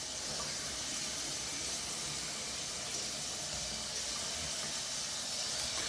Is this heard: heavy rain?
no